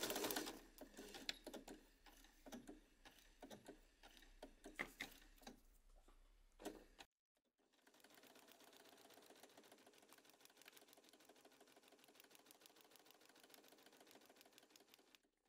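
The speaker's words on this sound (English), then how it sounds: "I'm going to start sewing down this side." A sewing machine fitted with a quarter-inch foot stitches down the side of a quilt block; a few handling clicks and taps come first, then a steady, rapid, even stitching whir runs on its own until the end.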